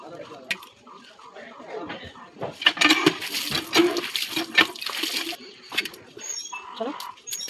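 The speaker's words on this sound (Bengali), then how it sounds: "আর এই যে শাকগুলো ধুবো।" Whole jute leaves being washed by hand in a pot of water, with splashing, sloshing and clattering of the pot in a busy burst, a voice talking over it and through the quieter stretches.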